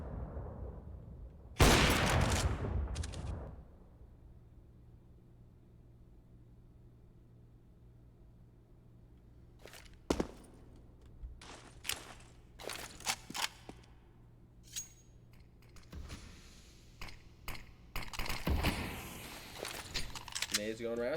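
Gunfire and grenade blasts from a CS:GO match come in a loud burst early on, then scattered sharp shots and clatters, all under continuous commentary.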